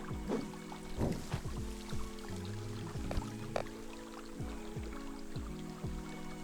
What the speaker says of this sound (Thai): เมื่อกี้ผมสาดน้ำอยู่นะ